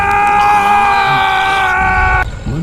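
A man's sustained, strained scream as his throat is seized inside a palace: loud and close, with a steady shrill tone for about two seconds that breaks off abruptly, followed by faint low rumbling.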